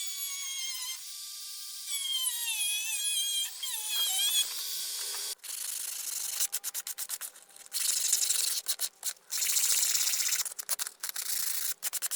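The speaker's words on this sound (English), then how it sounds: "I'm just going to round those corners off" Power sanding rounds off the corners of metal parts on a Triumph Bonneville motorcycle project, giving a harsh, loud grinding rub that starts and stops in short bursts, with shrill squealing tones in places.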